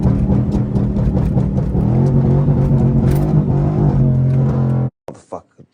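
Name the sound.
straight-piped Pontiac G8 GT engine revving while sliding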